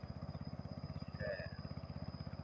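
A small engine-driven water pump runs steadily while drawing water out of a rice field, its rapid pulsing chug throbbing at an even rhythm close by, with a brief faint tonal sound partway through.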